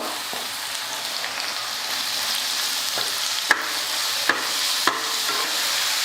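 Onions and carrots sauté in a pan, a steady bright sizzle running throughout, broken by three sharp scraping clicks of a spatula near the end; no voices.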